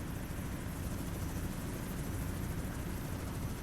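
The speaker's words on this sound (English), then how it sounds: "Gotta get out of the path of this helicopter." A helicopter in American Truck Simulator passes close overhead, its rotor producing a loud, steady roar and thrum that fills the whole moment without pause.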